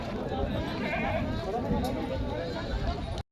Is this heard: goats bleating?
yes